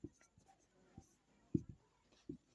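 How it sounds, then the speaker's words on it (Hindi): Sparse, faint taps and short scrapes of writing on a board during a chemistry lesson, a handful of quiet strokes spaced irregularly in a hushed room. "तो हम यहाँ पर लिख लेते हैं डाल्टन"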